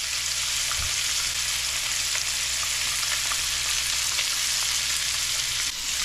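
Redfish fillet blackening in a very hot cast iron pan, giving a steady, loud, even sizzle and crackle that holds for the whole stretch with no talking over it.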